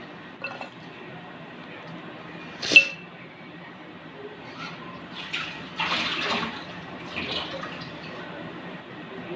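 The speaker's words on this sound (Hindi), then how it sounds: "अब इसको हम आधा कप पानी डाल के लिक्विडी फॉर्म में करेंगे।" Half a cup of water is poured into dry chicken pakora batter, with faint, scattered trickles and splashes, a brief clink and soft mixing sounds nearby in a quiet kitchen.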